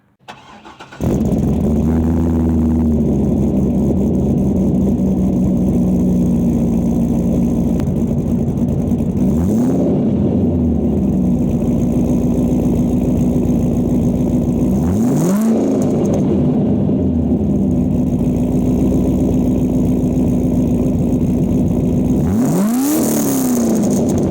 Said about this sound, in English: do a cold start for you and just kind of let you get an idea of what it sounds like with these exhausts